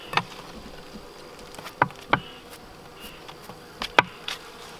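Honey bees around frames being harvested from a hive infested with small hive beetles, heard as a low faint hum with several sharp brief buzzes or taps close by, no voices.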